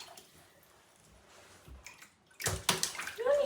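Water sloshing and splashing in a tub as Mooney the dog gets a bath, starting quiet with faint drips, then louder close splashes and swishing toward the end.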